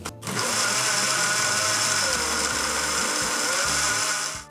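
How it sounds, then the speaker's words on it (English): A blender whirs loudly and steadily for several seconds, blending cocktail ingredients, its motor pitch shifting slightly as the contents churn, then cuts off. "Close the blender and blend it until everything is blended."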